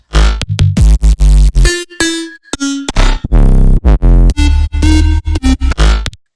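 Punchy synth bass notes and bright lead stabs play in choppy, staccato bursts with short silences between them, loud and chaotic.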